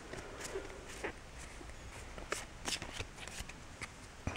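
Pokemon TCG cards from a Fates Collide booster pack being handled close up, with soft sliding and shuffling rustles and a few crisp flicks and taps at a quiet level.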